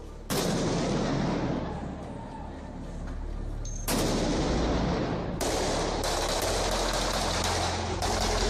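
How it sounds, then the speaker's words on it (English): Blank gunfire cracks among high-rise buildings in downtown Miami, sharp reports at irregular intervals, each trailed by a long echo that rolls off the towers over a constant low city rumble. "some blank rounds of gunfire pinging off the high-rises here in downtown Miami"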